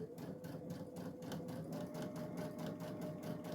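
A sewing machine stitches a Fourth of July placemat at a steady, rapid rhythm of needle strokes with a faint motor hum, running close and continuous with no talking.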